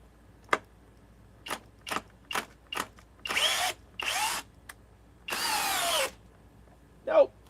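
A 650 inch-pound power driver tries to back out a stuck fastener. It fires several short whirring bursts, then two longer runs and one extended run, with pauses between them. A brief voice is heard at the end.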